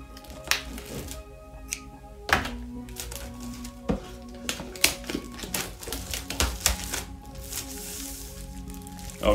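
Crinkly plastic wrapping is peeled and pulled off an Apple M1 Mac Mini box, with irregular close rustles, crackles and soft thumps of handling, no voice.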